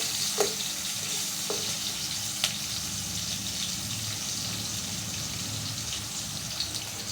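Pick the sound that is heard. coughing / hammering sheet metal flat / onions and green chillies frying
onions and green chillies frying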